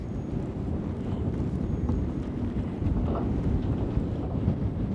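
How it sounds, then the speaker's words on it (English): Steady wind buffets the microphone around a fishing kayak out on open water, with choppy waves slapping continuously against the hull where the wind runs against the current; no voices. "Right now the wind and the current are going opposite directions, so it's making it choppy"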